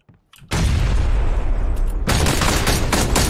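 Gunfire rings out in the PlayerUnknown's Battlegrounds video game, a sudden loud burst of rapid shots and booms that runs nearly continuously for about three seconds after a brief quiet start.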